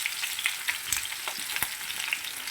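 Baby potatoes frying golden in a pan, a steady close crackling sizzle with scattered sharp pops and occasional stirring.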